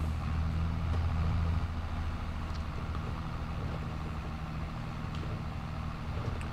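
Steady low engine drone of a tractor in Farming Simulator 22, continuous and fairly loud with a constant rumble and no voices over it.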